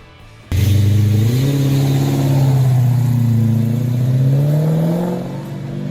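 An RPO 83 Aussie muscle car's engine, one of only about 250 built, kicks in abruptly and roars loud and close, rising in pitch through a sustained rev before easing off toward the end.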